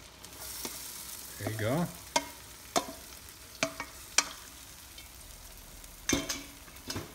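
Bitter melon (ampalaya) being stir-fried with corned beef, a steady sizzle broken by repeated sharp scrapes and knocks of a utensil against the pan, with a brief spoken remark partway through.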